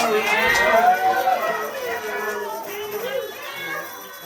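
Voices imitate animal cries, with a drawn-out, swooping meow-like wail and other warbling calls, loud and close, blending into one noisy burst.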